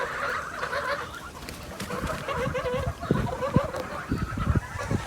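Fattening geese about 65 days old honk and cackle in a noisy group, their calls overlapping steadily and growing louder with sharp bursts near the end.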